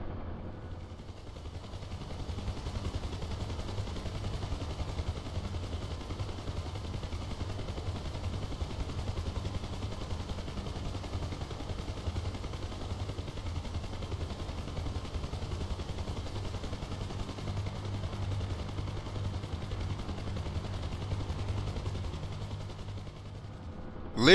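UH-1H Huey helicopter lifting off from a carrier deck in DCS World, its turbine whine and rotor thump holding a steady, loud drone throughout, with a sudden louder burst right at the end.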